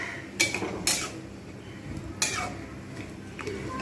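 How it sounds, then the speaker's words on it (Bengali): A metal lid clatters onto a cooking pot in a home kitchen, with a few sharp close clinks and taps separated by quieter pauses over a low background hum. "এবার ঢাকনা দিয়ে দেবো"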